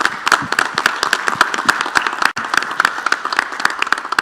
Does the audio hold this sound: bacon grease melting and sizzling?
no